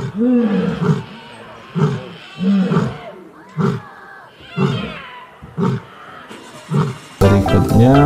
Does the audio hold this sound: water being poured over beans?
no